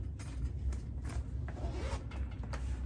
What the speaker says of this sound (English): It's got like a rubberized zipper here